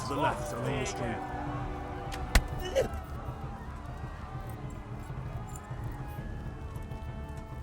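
Rapid hoofbeats of a galloping horse in the video game Kingdom Come: Deliverance run steadily beneath a layer of tonal game sound, with a couple of sharper clicks partway through.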